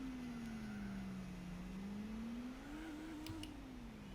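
A race car engine in Gran Turismo 4 holds a steady, loud drone at partial throttle during a race start, its pitch sagging slightly and then climbing a little toward the end, with no talking.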